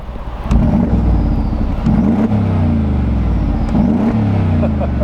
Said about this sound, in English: So when you get that V8 engine revving, it makes some very, very nice sounds.